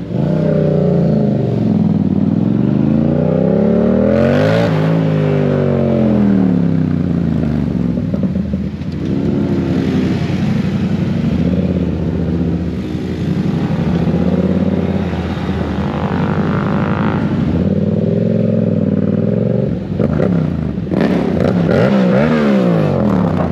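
A Yamaha MT-07 motorcycle rides at high speed with a loud, continuous engine drone and wind rush. The pitch sweeps up and down with repeated gear changes and revving throughout.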